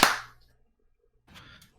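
A single sharp hand clap rings out close and loud, followed by a brief decaying tail, then silence before a softer shuffle of noise near the end.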